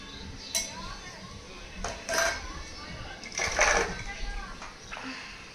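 A child's toy plate being handled, giving several light, scattered clinks and clatters at close range while someone talks over them.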